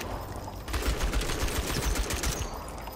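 Rapid automatic gunfire erupts in Outpost: Infinity Siege, a dense, loud stream of crackling shots that starts abruptly and runs without a break for a couple of seconds.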